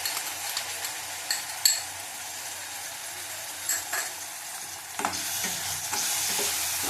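Ginger and garlic paste frying in a pan, a steady bright sizzle broken by a few scraping stirs, close and moderately loud with no talking.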